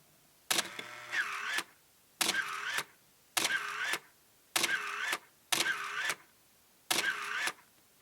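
A Canon A1 camera's Power Winder A motor whirs in six short bursts, each about half a second long, separated by brief pauses, close and fairly loud.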